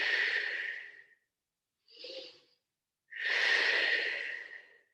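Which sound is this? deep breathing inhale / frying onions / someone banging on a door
deep breathing inhale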